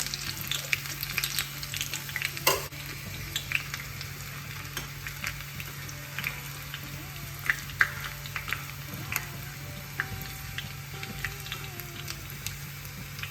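Mustard seeds and finely chopped onion fry in oil for a cucumber and drumstick curry, a soft continuous sizzle with scattered pops and crackles across the whole stretch, close but fairly quiet, with no talking.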